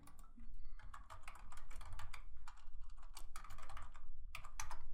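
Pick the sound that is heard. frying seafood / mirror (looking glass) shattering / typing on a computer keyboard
typing on a computer keyboard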